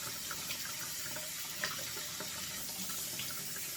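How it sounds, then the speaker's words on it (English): Tap water running steadily into a bathroom sink, a continuous close hiss and splash with small spattering bursts, no voices. "Just turn your water on"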